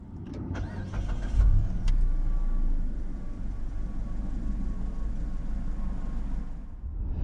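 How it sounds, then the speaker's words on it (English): A Mazda CX-9 SUV engine turns over via push-button start and catches with a brief surge, then settles into a steady low idle rumble that continues to the end. "just simply hit the engine start button"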